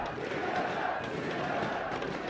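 At an esports match, a distant crowd chants in unison to pump up its team, a faint, steady roar of many voices rising and falling slightly.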